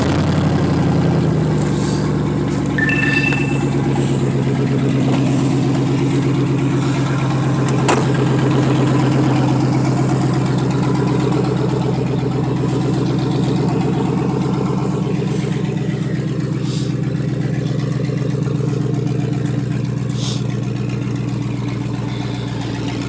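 A car engine idles after a cold start following two days parked, giving a loud, steady, even rumble that holds unchanged for over twenty seconds with no talking.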